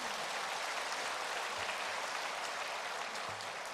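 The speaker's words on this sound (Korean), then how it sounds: "축하의 박수 주시기 바랍니다." A church congregation applauds during a Sunday worship service, a faint, steady wash of clapping that stays even throughout with no voices on top.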